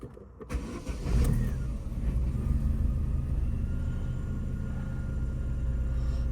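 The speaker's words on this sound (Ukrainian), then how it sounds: "Машина заводиться." An Opel Astra H car engine starts with a short crank, then settles into a steady, fairly loud idle rumble that continues alone.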